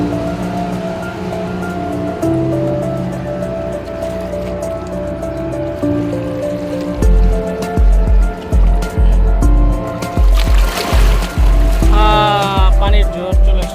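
Water surges at a holiday park. Music plays alone at first, then loud churning splashes roll in as a rapid series of bursts through the second half, close by.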